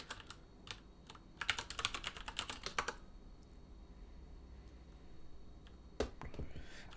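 Rapid clattering keystrokes on a computer keyboard as a command is typed during C programming work, a dense close burst over the first few seconds, then near silence broken by one more soft key tap.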